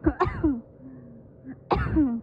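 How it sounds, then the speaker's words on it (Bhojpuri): Coughing and throat clearing in an Awadhi comedy sketch: a rough cough at the start and another harsh burst near the end, close and fairly loud, with a quieter pause between. "बड़ी खांसी आवत बा"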